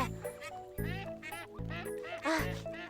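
Cartoon ducks quack repeatedly in a lively series of loud, close, nasal calls, several overlapping bursts within a few seconds, with no talk.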